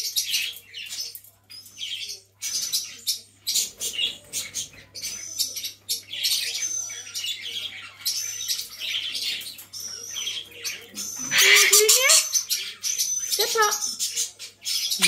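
Scaly-breasted lorikeet chirping and calling in bursts of shrill, high notes, close and fairly loud, with a sharper squawk near the end, while a person speaks softly at times underneath.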